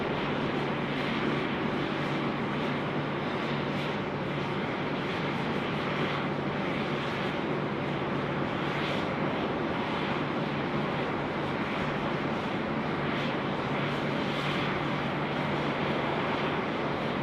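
A UPS Boeing 747-8 at Sydney Airport gives a steady, broad jet roar that fills the whole stretch at constant loudness, a sustained engine rumble with a faint hiss, and no voices.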